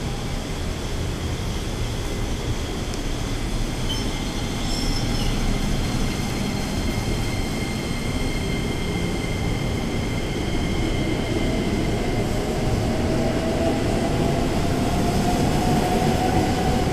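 A crowded KRL Jabodetabek commuter train rumbles along the platform at Tanjung Barat station, a continuous heavy roar with faint metallic squeals rising over it.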